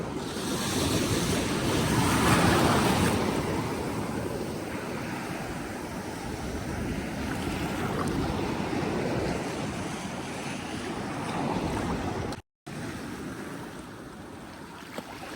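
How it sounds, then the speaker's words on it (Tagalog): Strong sea waves surging and breaking continuously along the shore near Muscat, Oman, a loud, steady wash of surf mixed with gusty wind buffeting the microphone, with no voices. "So malakas ang alon."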